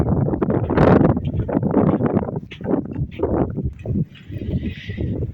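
Cold wind buffets the microphone steadily in a garden, a low rushing roar underneath a person talking.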